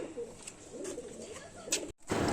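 Soft, low cooing of Madrasi pigeons repeats in a relaxed rhythm, ending with a sudden brief burst of fluttering as pigeons are released to fly.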